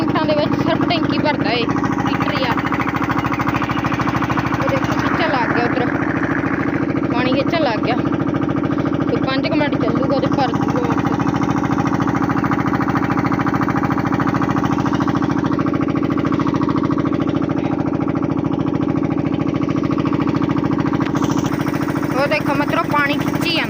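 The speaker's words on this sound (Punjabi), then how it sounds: "ਹੁਣ ਜਨਰੇਟਰ ਨੂੰ ਗੇੜਾ ਪਾ ਲਓ ਤੇ ਇੱਧਰ ਪਾਣੀ ਖਿੱਚ ਲੂਗੀ ਟੈਂਕੀ" A generator engine runs steadily throughout, driving a pump that draws water up into a tank at a house, a constant mid-pitched drone with some clanking and voices talking over it.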